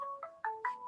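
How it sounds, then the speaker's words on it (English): A mobile phone ringtone plays a short electronic melody of clear, bright tones stepping in quick succession, fairly quiet and close, with no talking over it. "Excuse my phone, I should have turned that off before I started"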